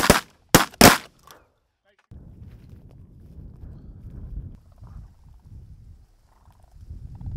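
Shotguns fire during a morning duck hunt, three loud, close blasts in quick succession, then a fainter fourth shot. A low rumble of movement and muffled outdoor noise follows.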